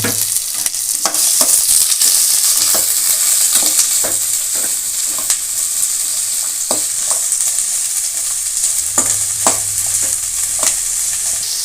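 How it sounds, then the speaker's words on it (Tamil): Onions and green chilies sizzle steadily in hot oil in a pan, with a constant bright crackle and occasional scraping stirs, close up and without talk. "இப்போ வெங்காயம் பச்சை மிளகா எல்லாம் வதக்கிடுவோம்"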